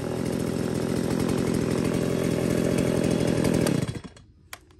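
A STIHL or Husqvarna chainsaw engine runs loud and steady close by, holding a buzzing drone for nearly four seconds before cutting off and winding down, followed by a small clack.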